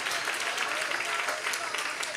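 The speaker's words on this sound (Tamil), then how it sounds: "நல்லா கைத்தட்டி நன்றியை செலுத்துங்க பார்க்கலாம்." Audience applause in thanksgiving during a Tamil Christian prayer gathering, a steady, dense wash of many hands clapping throughout, fairly close and even in loudness.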